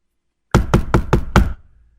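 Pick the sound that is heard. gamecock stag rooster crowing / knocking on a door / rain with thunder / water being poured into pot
knocking on a door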